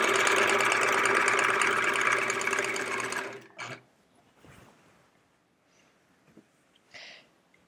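A sewing machine runs steadily for about three seconds while binding is sewn onto a sampler quilt, then stops, leaving faint handling noises and quiet near-silence.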